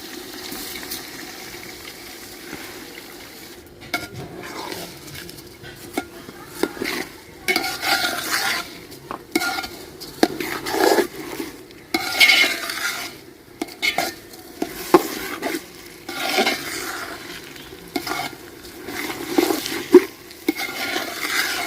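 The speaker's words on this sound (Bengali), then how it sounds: "পোলাওর চালটা ভালোভাবে ভাজানো, যত ভালো ভাজা হইব তত সুন্দর পোলাওটা ঝরঝরা হইব।" Chinigura polao rice is fried and stirred in a pan, a steady sizzle broken by repeated scraping strokes of a spoon against the metal, with occasional clinks of utensils and no talking.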